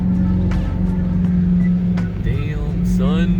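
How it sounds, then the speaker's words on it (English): A gold-rimmed El Camino donk with a handicap plate throws out a loud, steady engine drone that climbs in pitch as it accelerates hard nearby, with bystanders talking over it. "Oh, he hit the gas."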